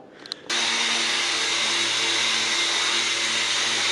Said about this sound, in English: just sand the corner of the wood so it matches with the mount